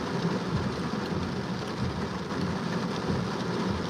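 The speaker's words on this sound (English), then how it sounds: "I hate the rain, dude. This rain is kind of irritating me" Steady rain falling hard and continuously, a dense wash of hiss that stays level for the whole stretch with no voices over it.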